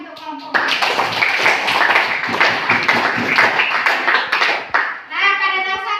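A classroom applauds a group presentation: dense clapping from many hands bursts in after a short pause and holds steady for about four seconds, then fades as a voice resumes speaking.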